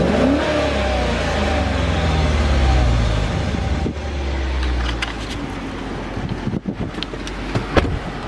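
A 2016 Dodge Challenger R/T with a 5.7 V8 and Magnaflow exhaust revs outdoors, with a loud, deep engine note that swells and holds. Wind buffets the microphone, and a few sharp bursts come near the end.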